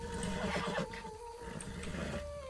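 A horse whinnies in the Western video game RedM (Red Dead Redemption 2), a fairly quiet, drawn-out neigh heard alone against faint background ambience.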